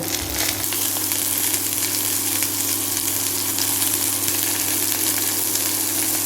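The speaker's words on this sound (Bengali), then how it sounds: "তারপর আমি সবজিটা দেবো, মধ্যে দিয়ে দেবো" Vegetables sizzle loudly in hot oil with tempering spices, a close, continuous hiss and crackle with a low steady hum beneath, unbroken and alone.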